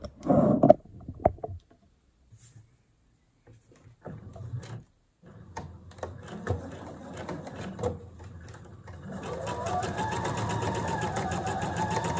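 Domestic sewing machine running a seam on a blouse near the side seam, a quiet steady motor hum that builds into continuous stitching in the latter half, after brief handling clatter and pauses.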